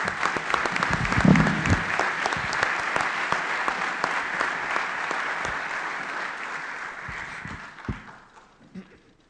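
An audience applauds a speaker at a university macroeconomics forum with dense, steady clapping that holds for several seconds, then thins into scattered claps and fades.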